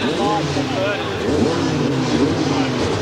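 Motorcycles rev together at the starting gate of a 1987 supercross masters race, a loud dense roar of many engines with rising and falling pitch, while an announcer talks over it.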